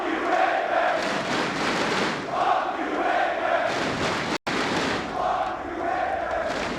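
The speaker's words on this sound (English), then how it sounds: "And the crowd have adapted a new favorite chant." Esports arena crowd at the IEM Dallas 2024 Counter-Strike grand final between G2 and Vitality chanting in loud, sustained, rhythmic waves, the roar filling the hall almost continuously with one brief cut.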